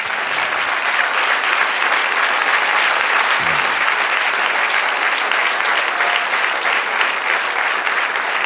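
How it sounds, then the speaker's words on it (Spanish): A church congregation applauding during an evening sermon, a full, even roar of clapping from many people that holds steady for over eight seconds, with a faint voice briefly audible underneath. "Y den un aplauso al Señor."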